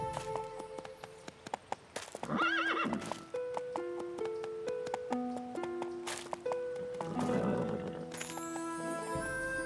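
A horse whinnies loudly over steady clip-clopping hooves, with rhythmic hoof strikes continuing throughout against a busy background.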